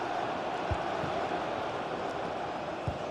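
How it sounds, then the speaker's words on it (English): Stadium crowd in a football video game roars as a steady, dense wall of noise, loud and constant throughout with a couple of brief low thumps. "The crowd certainly think so. Just listen to them."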